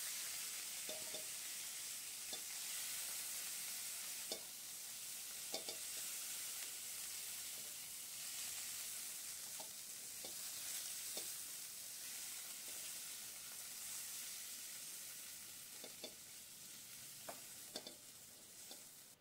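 Cauliflower florets fry in mustard oil in a pan, a soft continuous sizzle broken by scattered stirring scrapes and clinks, heard alone and fairly quiet.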